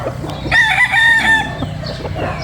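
A breeder rooster at a poultry farm lets out one loud, close crow, with softer clucks and faint farmyard sounds around it.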